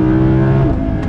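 Loud, close roar of an Audi R8's naturally aspirated V10 engine on a racetrack, a dense, steady harmonic drone held through the moment without any voices.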